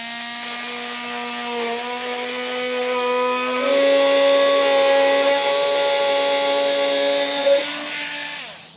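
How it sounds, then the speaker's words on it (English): Oscillating multi-tool cutting through thick plastic bumper trim on a 2024 Toyota Sienna, a steady buzzing whine that shifts pitch as the blade bites, heard close and alone for several seconds. "I'm going to use a multi-tool to cut it out"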